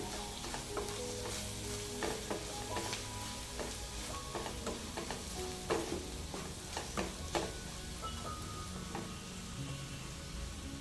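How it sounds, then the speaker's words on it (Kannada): Ivy gourd sabji fries in a pan with a steady, dense sizzle while occasional faint scrapes of a spatula stir through it, close but fairly quiet, with no voices. "ಈ ಥರ ಚೆನ್ನಾಗಿ ಫ್ರೈ ಆದಮೇಲೆ ಇನ್ನೊಂದು ಸಲ ಚೆನ್ನಾಗಿ ಕೈ ಆಡಿಸ್ಕೊಳ್ಳಿ"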